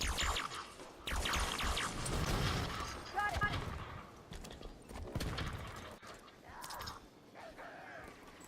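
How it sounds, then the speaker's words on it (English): Plasma pistol fire in Halo 5: Guardians on Mythic difficulty during a Swords of Sanghelio mission, with bursts of energy shots and crackling impacts mixed with other battle noise, fairly loud and continuous through the clip. "weakening his shields with the plasma pistol"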